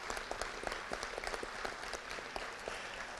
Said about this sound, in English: let's just give a round of applause to all those groups that come together to make this possible